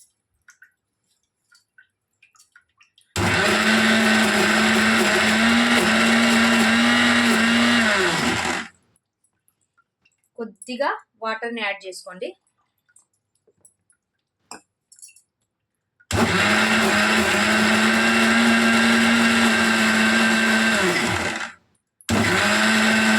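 A kitchen mixer grinder churning cream into butter roars loudly at full speed in two long bursts. Between the bursts there is a near-silent gap with a short spoken remark and some faint clinks.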